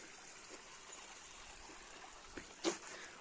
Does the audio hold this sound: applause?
no